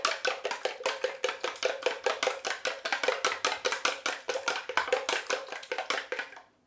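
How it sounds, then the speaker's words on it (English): Egg beaten with a wooden spoon in a bowl, a fast, steady run of about twenty-five sharp knocking strokes over several seconds, close and fairly loud, with no talking. "for the egg, I'm just going to use the wooden spoon to beat it up a bit."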